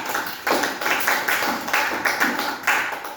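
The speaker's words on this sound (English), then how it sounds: "Give Michael a clap for his attempt." A classroom of students clapping for a classmate, a brisk run of overlapping claps in uneven pulses, close and fairly loud with no talking over it.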